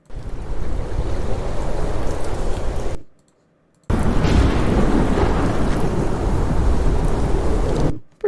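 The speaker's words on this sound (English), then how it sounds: "Pretty good storm sound." Synthetic thunderstorm effect with dense rumbling rain and thunder roar, loud and continuous, cutting out abruptly to silence for under a second before resuming and cutting out again near the end.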